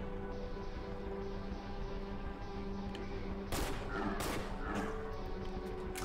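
Gunfire in the horror video game Cry of Fear: a couple of sharp, loud shots burst out midway over a steady droning game soundscape.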